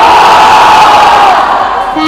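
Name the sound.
crowd screaming and cheering loudly on request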